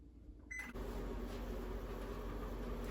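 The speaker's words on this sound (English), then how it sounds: "Take your marshmallows in your microwave, 30 seconds." A microwave oven heating marshmallows beeps briefly, then starts up with a steady loud whirring hum and a faint high tone that continues without change.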